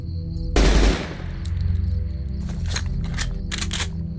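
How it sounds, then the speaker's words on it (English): A .45 auto submachine gun in Fallout: New Vegas opens with a loud blast and then rattles off rapid bursts of game gunfire at steady volume, with no voices. "I'm curious about this, 45 auto submachine gun."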